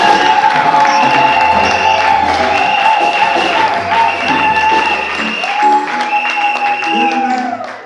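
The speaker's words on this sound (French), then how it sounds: "Oui, on acclame pour la gloire de Dieu." A church congregation at a ministry confirmation cheers and applauds loudly and continuously, with whoops, shouts and sustained singing-like voices rising over steady clapping throughout.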